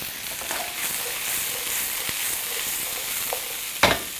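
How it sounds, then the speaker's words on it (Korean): Bacon sizzles steadily in a hot pan with onion, a continuous bright frying hiss with a few soft scrapes and a sharper clatter near the end, no voices. "베이컨이 어느 정도 잘 색깔이 나면 그 다음에 양파 넣을게요"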